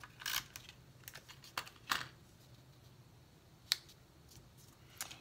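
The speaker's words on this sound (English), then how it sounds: "So just trim this off." Scissors snip through die-cut paper trimmings for a handmade Santa treat box, giving a handful of crisp, close cuts spaced unevenly across the quiet.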